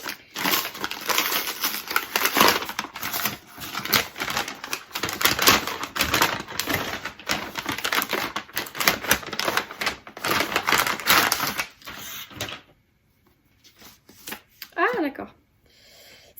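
A small parcel from the publisher Pocket being opened, with sustained crinkling, tearing and rustling of packaging for about twelve seconds, close and fairly loud, then a quieter pause with a few faint rustles.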